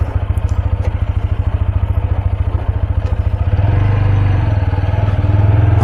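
A motorcycle runs close by with a fast, even engine throb that rises and smooths out as it picks up speed, loud and steady with no talk.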